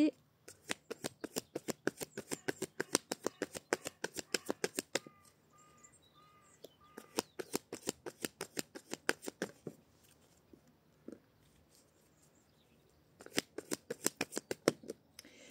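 Tarot cards being shuffled by hand, close and crisp, in rapid riffling bursts separated by quieter pauses, with a voice speaking softly in between.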